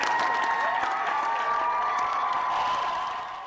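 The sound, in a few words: crowd applauding a 105-year-old graduate on stage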